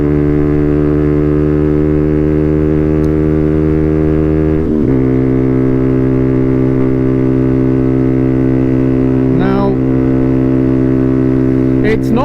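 Zontes ZT125 Z2 motorcycle holding steady in fifth gear, its engine drone loud and continuous from the rider's position with a brief dip and pitch shift midway, wind noise throughout.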